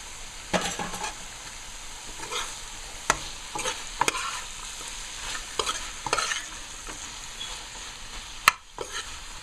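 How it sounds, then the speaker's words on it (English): Katahar (jackfruit) simmers and fries in oil and coconut milk in a pan for a curry with shrimps, a steady close sizzle broken by repeated spoon scrapes and clinks against the pan, with no talking. "By cooking it, I put some oil there, but I'm cooking it with some coconut milk, so that would make it moist."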